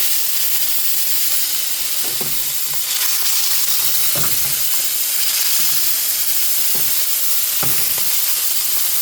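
Kingfish fries in a hot pan, making a loud, steady sizzle throughout, with a few soft stirring knocks. No one speaks.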